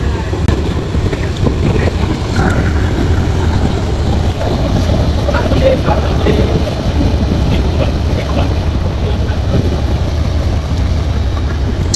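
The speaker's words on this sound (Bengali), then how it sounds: "চাঁদপুরের বোগদাদিয়া 12 লঞ্চকে ওভারটেক করতেছে সুন্দরবন 16 লঞ্চ।" The large passenger launch Sundarban 16 cruises on the river from Dhaka to Barishal, a steady deep engine rumble and rushing water with wind buffeting throughout, loud and continuous without a break.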